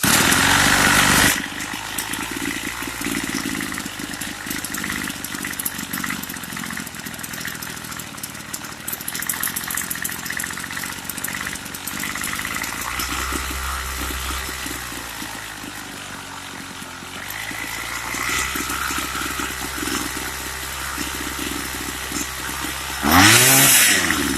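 A Craftsman weed eater's small two-stroke engine runs steadily just after a low-speed carburetor screw adjustment, a loud continuous buzzing drone with slight wavering in pitch, ending in a brief sharp rev.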